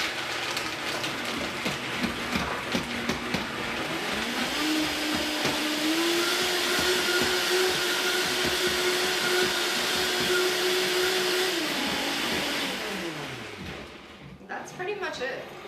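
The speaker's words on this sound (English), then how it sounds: "The Vitamix has such a strong motor that if you were to blend this longer," A Vitamix blender whirs through a batch of vegan pesto, its motor spinning up, holding a loud, steady whine for several seconds, then winding down to a stop.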